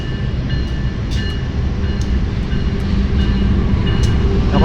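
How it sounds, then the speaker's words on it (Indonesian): Cirebon Fakultatif train hauled by locomotive 20656 pulling into track 4 at Gambir station, a steady loud low rumble of wheels and engine throughout with faint high squeals and clicks on top. "ini kereta api Cirebon Fakultatif persiapan masuk jalur 4 stasiun Gambir"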